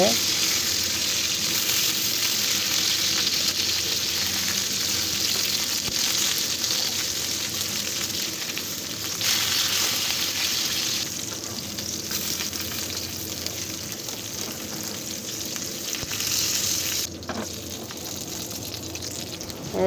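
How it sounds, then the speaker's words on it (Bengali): Beef fritters wrapped in bottle gourd leaves fry in hot oil, giving a continuous loud sizzle that shifts as pieces are turned, with occasional clatter and low talk underneath. "পাতাটা যাতে ভাজা ভাজা হয়, সিদ্ধ হয়, মুচমুচে হয়।"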